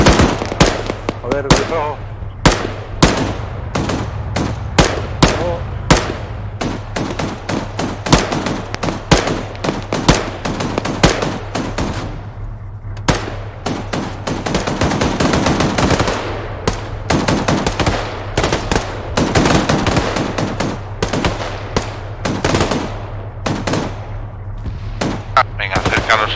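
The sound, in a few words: gunner firing weapons in video game Arma 3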